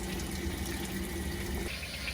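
Water gushing steadily out of a tankless water heater's flush valve after a vinegar descaling, a constant close hissing rush with no pauses and no voices.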